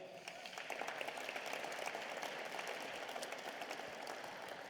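Applause fills a room at the 2024 Mouseland Gala, a foundation fundraiser: a soft, dense, continuous patter of many hands clapping at once, heard from some distance and held at an even level throughout.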